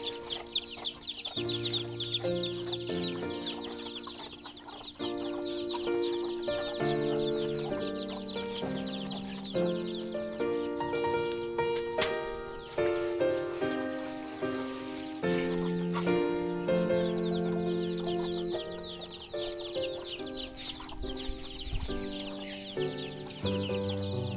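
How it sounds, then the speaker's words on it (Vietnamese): Chickens cluck softly and intermittently while being fed corn and rice at dusk, faint beneath steady background music. "Mình cho gà ăn"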